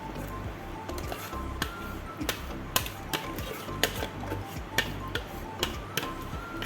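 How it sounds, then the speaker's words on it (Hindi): Biscuit chocolate cake batter is spooned and scraped into a cake tin, giving soft squishy sounds broken by sharp clicks and taps of utensil on metal at an irregular pace, close and fairly quiet. "अब हम इसको इस तरह से केक के बर्तन में शिफ्ट कर देंगे।"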